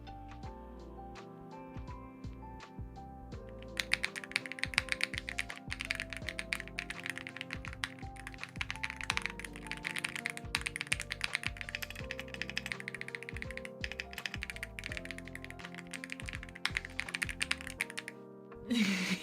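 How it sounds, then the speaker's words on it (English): A very clicky computer keyboard being typed on steadily, held close, with rapid crisp keystroke clicks and occasional heavier taps continuing for the whole stretch. "I have a very clicky keyboard."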